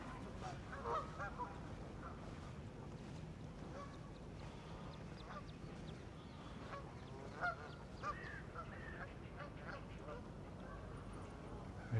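A flock of Canada geese in London gives repeated honking and quacking calls at close to moderate distance, scattered over a steady outdoor background.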